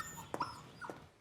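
A dog whimpers twice in quick succession, short, high, faint whines close by in an otherwise quiet room.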